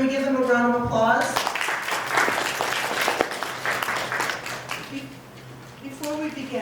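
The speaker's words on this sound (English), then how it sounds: "Can we give them a round of applause?" An audience gives a round of applause for a Memorial Health panel at a breast cancer awareness event, the clapping swelling after a speaker's voice and running fairly loud for several seconds before talk resumes.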